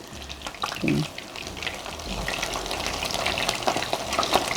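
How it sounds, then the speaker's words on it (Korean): Dried pollack frying in hot oil, a steady close crackling sizzle with bursts of popping throughout and a few brief clinks. "껍질 있는 쪽을 제가 먼저 넣는 이유는 기름이 온도가 계속 떨어지니까 기름을 너무 많이 먹게 될까봐"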